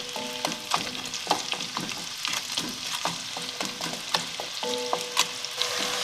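Aromatic herbs, cloves and garlic frying over fairly high heat for a vegetarian bourguignon, a bright steady sizzle with frequent light taps and scrapes of a utensil against the pan, close and without speech.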